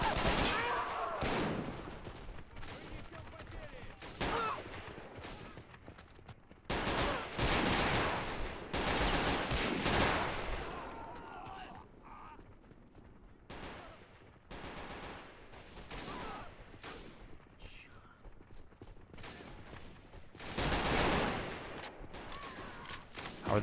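Gunfire and machine gun bursts in a war video game combat obstacle course, with soldiers of the USA, UK and Russia. Repeated loud volleys and rapid fusillades come in uneven waves with short lulls.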